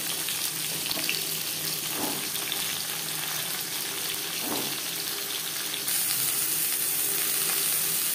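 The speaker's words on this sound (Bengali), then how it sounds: "15-20 সেকেন্ড জিরে ভেজে নেওয়ার পর দিয়ে দেবো পটল।" Cumin seeds and pointed gourd fry in a little oil, a steady close sizzle with a few soft stirring scrapes. It gets slightly louder toward the end, and nobody speaks.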